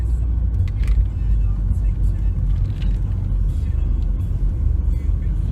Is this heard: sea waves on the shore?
no